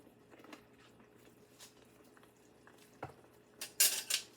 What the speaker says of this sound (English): Rinse my spoon off. I didn't want to double dip.